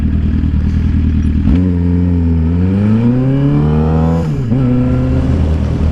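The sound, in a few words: Maserati car engine revving as it passes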